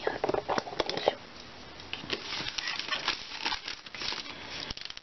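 A Daiso origami paper package is opened with scissors: close, crisp crinkling of the wrapping and a few snips and rustles in quick bursts, louder at the start and then softer.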